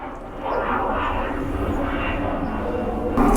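A fixed-wing airplane passes overhead above a house, a steady broadband engine roar that holds at a fairly loud level throughout.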